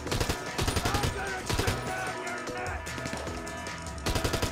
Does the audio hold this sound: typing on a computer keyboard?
no